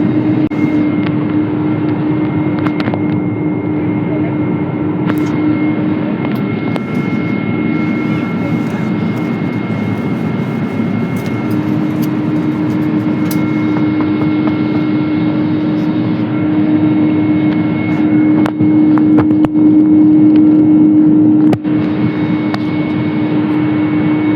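Steady broadband roar of an Air Asia Airbus A320-family airliner cabin in flight, a constant loud drone with a low tonal hum throughout and no talking.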